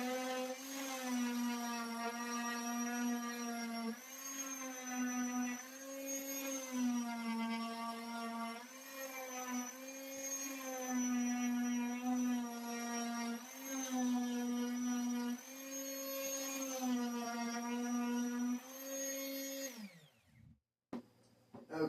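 A power tool sands a small wooden piece for a beam compass with a steady, high, whirring whine that rises and dips in repeated strokes for about twenty seconds, then cuts off abruptly.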